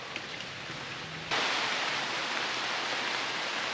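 Steady, dense rain hisses all around, growing suddenly heavier partway through and continuing as an even, close downpour.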